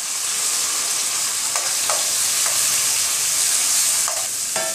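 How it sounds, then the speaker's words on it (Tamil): Onion, garlic, tomato and curry leaves sizzle steadily in a hot pan while a spoon scrapes and stirs them now and then, cooking a base for appalam kulambu. "இப்போ எல்லாத்தையும் நல்லா வதக்கிடலாம்"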